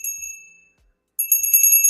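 A small bell rung in two bursts, a bright ringing tone fading out, a pause, then a louder busier cluster of rings near the end, with no talk.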